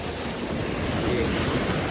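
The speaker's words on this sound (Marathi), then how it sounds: "बघा लाटा बघा" A steady, loud roar of surf with waves washing in on the beach at Alibag, mixed with gusty wind buffeting the microphone.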